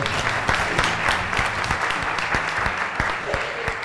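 Audience applause welcoming a chef onstage at a live cooking show at a Houston inn, a steady loud clatter of many hands with sharp individual claps standing out, a voice faint underneath.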